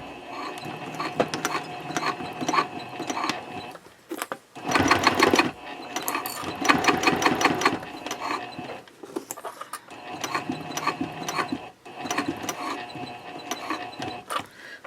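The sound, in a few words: sewing machine stitching Cordura fabric wallet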